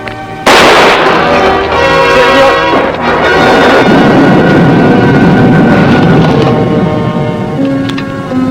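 A single loud gunshot in a western TV series cracks out near the start, followed by a long ringing, echoing decay that fades slowly over several seconds.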